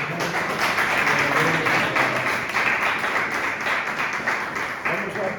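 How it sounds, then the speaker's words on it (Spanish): A church congregation applauds during a Spanish-language service, a steady, sustained patter of many hands clapping at moderate volume, with voices talking over it. "Démosle un aplauso"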